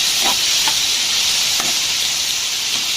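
Onions for a Madurai hotel-style veg parotta salna sauté in a pan, giving a loud, continuous close-up sizzle with a few soft stirring scrapes.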